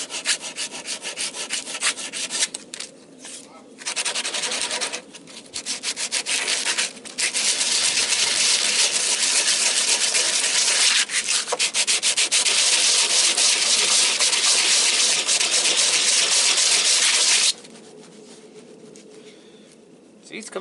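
A steel knife blade is hand sanded on a workbench in long, rasping back-and-forth strokes, close and loud, broken by a few short pauses and then continuing steadily before stopping near the end.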